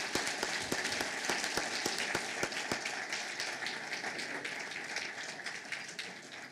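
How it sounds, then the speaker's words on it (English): A banquet crowd at a Hall of Fame athletics dinner claps for the athletic staff, with a few sharp, close individual claps at first over a continuous softer wash of applause that fades slightly toward the end. "Just let's go ahead and give them a warm round of applause"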